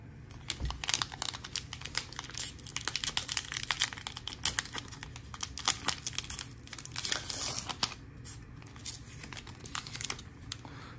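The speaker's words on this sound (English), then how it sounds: "let's get right to the ripping and see what cards we find inside" A Bowman 2023 baseball card pack is torn open by hand, with dense, close crinkling and ripping of the foil wrapper in quick irregular bursts, no talking.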